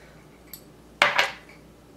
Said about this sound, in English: Give this a little stir and set it over to the side for about 10 minutes.